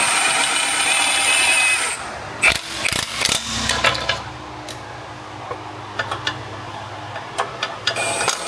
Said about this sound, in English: We're gonna tighten up the exhaust manifold.